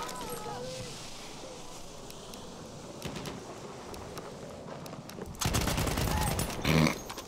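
Gunfire in the World War I shooter Battlefield 1, with bursts of rifle and machine-gun shots and distant battle noise, growing louder and denser toward the end.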